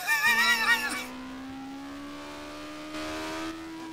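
A race car engine in Street Legal Racing Redline revs with a steadily rising tone, loud and close, after a brief burst of higher harmonics at the start.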